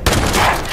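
Gunfire in the Fallout 76 video game, a short burst of loud, close shots cracking out right at the start, then ringing on as a dense rattle for under a second.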